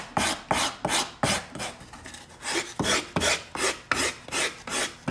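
A 4-in-1 rasp shapes yellow foam in quick, even strokes, about ten scraping passes up close and moderately loud, with no other sound.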